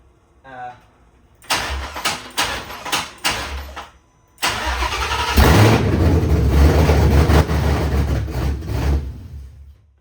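A Coyote-swapped 1966 Mustang fastback cranks in several short bursts, then fires and runs loud and rough for several seconds before it shuts off, with a person talking nearby.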